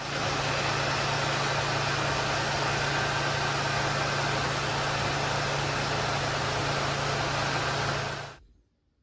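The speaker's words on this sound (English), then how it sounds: "I'm going to start the engine and turn the wheel from lock to lock just to get all the air out of the system" The engine of a 2007 Honda Pilot runs at idle as the steering is turned lock to lock after a power steering pump replacement. A steady, even drone with a low hum continues unbroken, then cuts off abruptly at the end.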